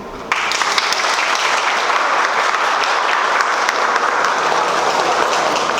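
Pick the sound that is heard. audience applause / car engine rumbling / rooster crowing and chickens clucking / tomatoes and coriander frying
audience applause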